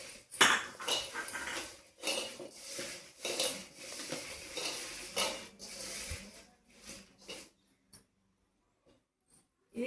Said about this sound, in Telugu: ఉప్పు వేసినాక మనం ఎల్లిపాయ జీలకర్ర ముద్ద వేస్తున్నా. ఇవి కూడా మనం మంచిగా కలుపుకోవాలి.